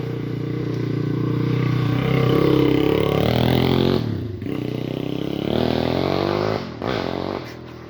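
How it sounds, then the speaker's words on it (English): Dirt bikes rev and roar on a dirt track, engines climbing and falling in pitch as they pass fairly close, with brief throttle cuts between bursts. "A lot of this is a dirt biking track, so a lot of people come here with their bikes and quad bikes and the like."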